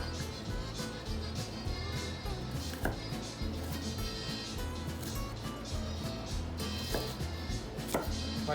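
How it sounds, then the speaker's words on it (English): Onion being chopped with a knife on a board for pico de gallo: a quiet, steady run of chops with a few sharper knocks, close up, with no clear talking. "Probably a better way to cut an onion, but this is the way I do it."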